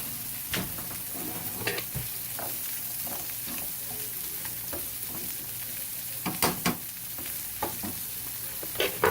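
Carrots sizzling in olive oil in a pan, a steady frying hiss broken by scattered sharp knocks and scrapes of stirring, close and without talk.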